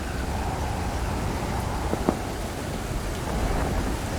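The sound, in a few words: thunderstorm and rain in a video game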